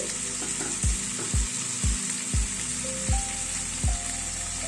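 Marinated cauliflower sizzles in a hot pan, a steady frying hiss punctuated by about six evenly spaced thumps and scrapes from a spoon or bowl.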